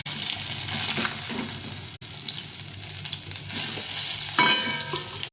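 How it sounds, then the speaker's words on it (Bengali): Fish rubbed with salt and turmeric fries in a pan with a continuous close sizzle and bubbling, broken by a brief cut partway through. "এই মাছগুলো ভেজে নিলাম"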